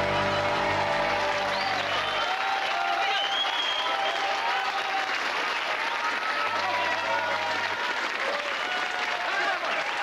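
Audience at a British variety show clapping and cheering, a dense, loud, continuous wash of applause heard close, with a few voices and whoops inside the crowd and a faint tone underneath near the start.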